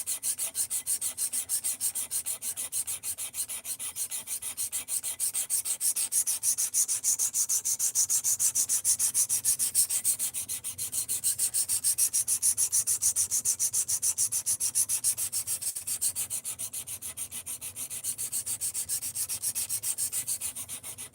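A knife is ground on a sharpening stone in a rapid, continuous scraping rhythm, close and steady, with brief dips in loudness between passes and no talk.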